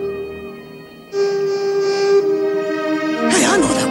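A tugboat whistle sounds in a Thomas/Tugs episode about munitions, a sustained tonal blast rising in over a busy harbour background, followed by a brief wavering whistle near the end.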